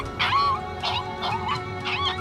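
A dog in the video game Tiny Bunny yelps and whimpers in several short, high, pained squeals, close and fairly loud.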